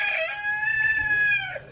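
A rooster in a backyard chicken coop gives one long, clear crow that rises and holds before trailing off, heard fairly close with little else around it.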